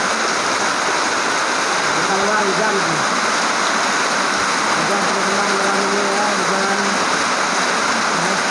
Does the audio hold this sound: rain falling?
yes